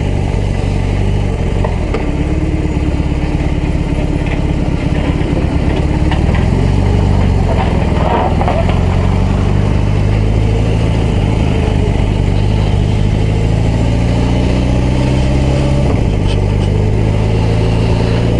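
A BMW R18 B bagger motorcycle's big engine while riding on a small country road: a steady, loud, deep drone that stays close throughout, its pitch sweeping gently up and down as the throttle changes.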